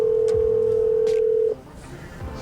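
A phone call goes out and rings, a steady held tone for about a second and a half that cuts off abruptly, leaving faint background noise.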